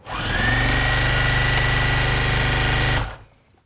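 Sewing machine stitching fabric strips for quilt blocks, a loud, close, steady mechanical whirring hum for about three seconds that then stops abruptly.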